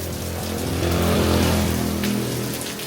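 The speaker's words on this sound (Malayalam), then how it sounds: "ആക്ച്വലി ഫ്രൈഡേ ആയിട്ട് നല്ല മഴയൊക്കെ ഒരു ഫീൽ ഗുഡ്. മഴ കാണിച്ചു തരാം." Heavy rain pours down in a dense, continuous hiss with a faint low rumble underneath, steady and fairly loud throughout with no voices.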